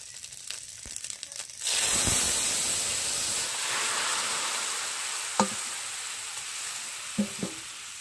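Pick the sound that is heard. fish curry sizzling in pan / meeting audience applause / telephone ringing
fish curry sizzling in pan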